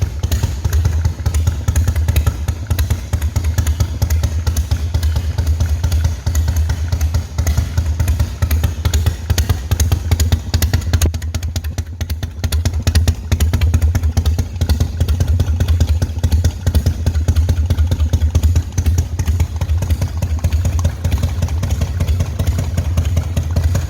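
A custom 2007 Bison Softail motorcycle with an old-school gooseneck frame idles steadily and loudly close by, its deep, lumpy engine rumble running unbroken throughout with light mechanical clatter.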